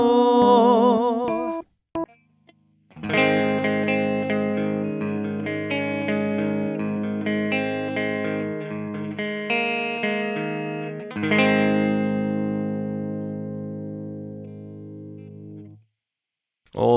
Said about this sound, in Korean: 기타의 경우는 잉글리시라는 아마도 제 생각엔 마샬을 복각한 앰프 시뮬레이션인데